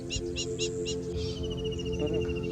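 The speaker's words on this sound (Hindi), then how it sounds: "सुंदर पंखों और तीखी आवाज वाला पक्षी, जिसे यहाँ काले तीतर के नाम से भी जानते हैं।" A black francolin calls in a Punjab wetland, giving a sharp, repeated phrase of four harsh notes followed by a fainter trailing call over steady background hum and other birds.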